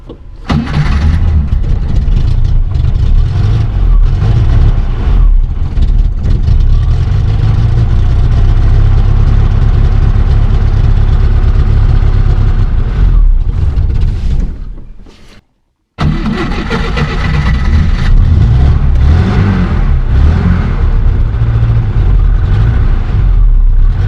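A 1980 IZh Kombi car engine cranks and catches, then runs loud and rough with revving surges, cuts out briefly near the end, and restarts into a steady close roar.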